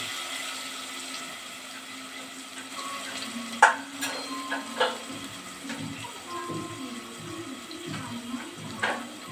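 Water running and splashing in a home kitchen while pasta is cooked, a quiet steady flow broken by a few sharp clinks and knocks of pots or utensils.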